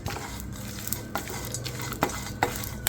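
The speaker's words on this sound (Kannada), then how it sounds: "ಎಲ್ಲದೂ ನೀಟಾಗಿ ಹಿಂಗೆ ಸ್ಲೋ ಆಗಿ ಹುರ್ಕೊಬೇಕು." Seeds for laddu slowly stir-roasted in a dry pan, a close, quiet continuous scraping and rustle with a faint sizzle and a few sharper clicks of the spoon against the metal.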